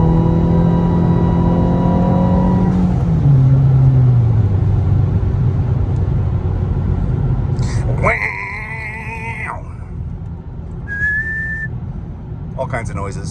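A Volkswagen Passat with the 1.8t engine and a Flowmaster FlowFX muffler on the exhaust idles with a low rumble, and a descending whine fades out early on. Short high whistling tones then sound over quieter engine noise.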